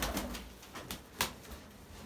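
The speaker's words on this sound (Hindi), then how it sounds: "बड़े जो है ना बड़े आकार का कबूतर है," Young English Carrier pigeon chicks, a large fancy pigeon breed, give soft, quiet coos in a few short pulses close by, with faint rustling between them.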